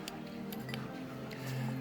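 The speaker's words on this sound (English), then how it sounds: "you're gonna hear it sound like this click when the clutch engages" A sedan car's AC compressor magnetic clutch clicks as it engages: a few sharp, light ticks spaced irregularly over a low steady engine hum, close by, with no talking.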